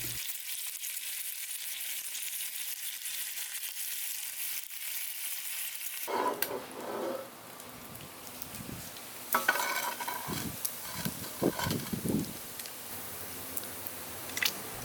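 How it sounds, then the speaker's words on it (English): Bacon fries in a pan set in the doorway of a wood-fired pizza oven, a steady close sizzle that gives way to scraping and clattering as the strips are stirred and turned. "We'll cook the bacon in the doorway of the oven until it reaches our desired doneness."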